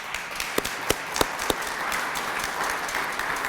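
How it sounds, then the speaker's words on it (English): An audience at a veterans' remembrance event breaks into applause: a few sharp, distinct claps at first, then a thicker continuous round of clapping that carries on to the end without any talking. "Let's give a round of applause to the Register."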